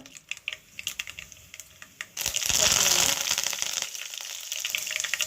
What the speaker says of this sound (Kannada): ಅದೇ ಪ್ಯಾನ್ಗೆ ಆಯಿಲ್ ಹಾಕೋತಾ ಇದ್ದೀರಿ ಈಗ ಈಗ ಸ್ವಲ್ಪ ಸಾಸಿವೆ ಹಾಕೊಳ್ಳೋಣ